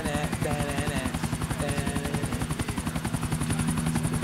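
A helicopter in the video game GTA IV thumps with rapid, evenly spaced rotor beats, a loud continuous chop running throughout with a steady turbine whine beneath it.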